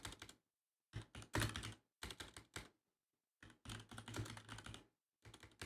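Someone types on a computer keyboard nearby in clustered bursts of rapid, crisp key clicks, separated by short silent pauses.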